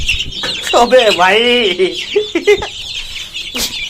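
Young Aseel chicks cheep and chirp at close range in shrill, wavering calls, with someone speaking briefly over them.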